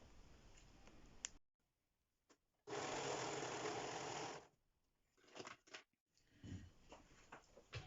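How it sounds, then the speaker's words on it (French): Sewing machine stitching a seam to close a sweatshirt cuff, one sustained loud run of about two seconds between quieter handling clicks and fabric rustle. "Et on va venir faire une couture à ce niveau-là de façon à le fermer."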